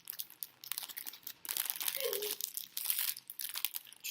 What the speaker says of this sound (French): Je suis désolée pour les bruits de papier.